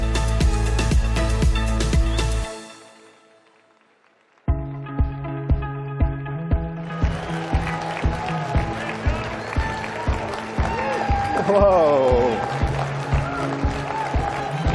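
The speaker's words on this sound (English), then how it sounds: "What a crowd." A large CPAC conference crowd claps and cheers loudly as a speaker takes the stage. The noise cuts out briefly, then returns with steady rhythmic clapping while someone speaks over it.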